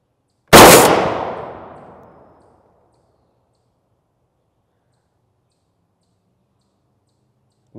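A single loud .50 BMG rifle shot strikes a UHMWPE armor plate, a sharp crack with a long decaying tail that fades over about two seconds, followed by silence.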